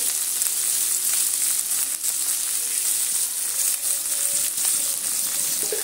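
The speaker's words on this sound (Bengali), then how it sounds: "নুনটা দিয়ে পেঁয়াজ আর মটরশুঁটিটা ভালো করে একটু সময় নিয়ে মিনিট 3 সময় নিয়ে ভেজে নিতে হবে।" Onions and green peas frying with salt in a pan for a mixed vegetable dish, an even close sizzling hiss that holds throughout with only slight dips.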